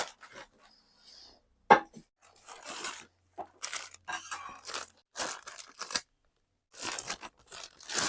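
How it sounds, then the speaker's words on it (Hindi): Crinkly plastic wrapping rustling and tearing off a Milton tri-ply stainless steel pressure cooker in several bursts, close up, with short pauses between, and no talking. "अब जल्दी से इसकी पॉलिथीन को रिमूव करते हैं।"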